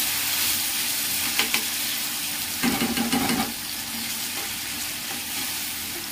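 Crushed garlic is stirred into a tomato curry frying in a pan, giving a steady, loud sizzle with occasional scraping and stirring clatter close by and no talk.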